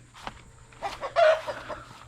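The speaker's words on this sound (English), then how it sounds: "Oh, and the rooster is pissed off." An agitated rooster, riled up after a scuffle, lets out a run of sharp, close clucks and squawks that swell into a louder burst midway, with no one talking.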